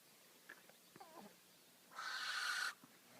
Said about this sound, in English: But barn owls are one of native owls